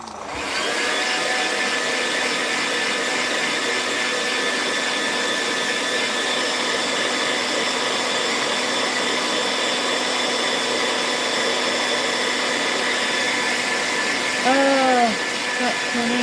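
A heat gun heat-sets a handmade fishing bait, blowing with a loud, steady whirring roar nearby for the whole stretch. A brief faint squeak appears near the end.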